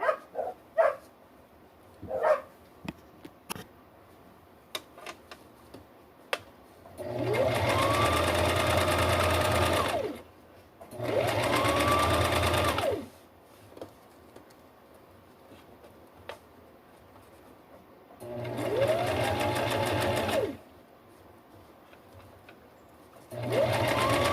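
A sewing machine stitches a cotton collar layer in four bursts of fast, even whirring a few seconds each, separated by quiet pauses with light clicks and handling. A dog barks faintly a few times early on.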